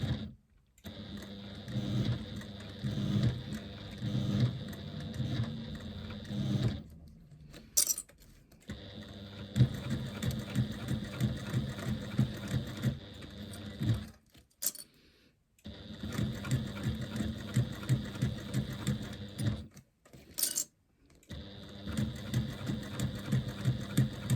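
A sewing machine stitches a fabric or faux-leather bag alongside a zipper, running in bursts of steady mechanical chatter that stop and start between short pauses.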